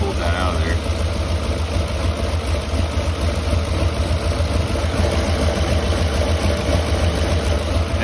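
A 2008 Ford 5.4 3V V8 idles steadily with one fuel injector unplugged, a continuous even rumble with a low throb and no change in rhythm throughout, loud and close.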